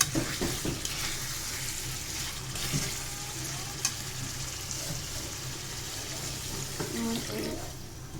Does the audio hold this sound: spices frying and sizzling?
yes